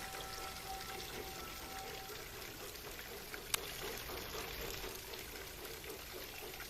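Garden pond waterfall in a backyard: a steady, even rush of falling water filling the whole clip, continuous and unbroken, with one tiny click partway through.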